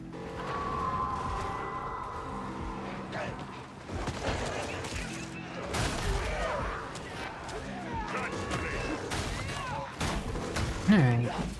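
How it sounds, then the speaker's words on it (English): Gunfire from a sniper in a video game crackles in scattered bursts and single shots, fairly close and sharp, mixed with game effects and music. "Oh, he's sniping, he's sniping."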